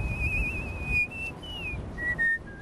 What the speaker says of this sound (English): I whistle breathing in and out, so it's not circular breathing, it's just breathing, but I'm making sound as I breathe.